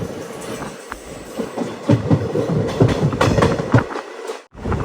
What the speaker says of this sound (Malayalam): ട്രെയിൻ ഇപ്പോൾ ആണ്ടിപ്പട്ടി റെയിൽവേ സ്റ്റേഷനോട് അടുക്കുകയാണ്.